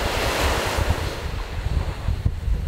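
Sea waves break and wash up on a beach, a loud, close surf hiss swelling and fading, with wind rumbling over the microphone throughout.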